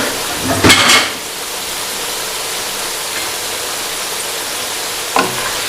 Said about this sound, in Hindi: देखिए ये कितने अच्छे से फ्राई हो रहे हैं आलू